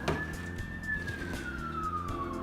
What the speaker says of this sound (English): I can hear the siren, the fire engine.